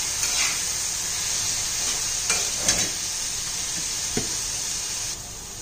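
Dry spinach bhaji heating in a pan and being mixed, a loud continuous sizzling hiss with a few soft scraping stirs before the sizzle drops away at the end.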